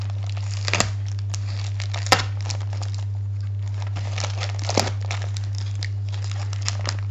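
Intermittent crinkling and ripping of paper and tape torn off a parcel, with a few sharp tearing bursts spread across a quiet, close-up background hum.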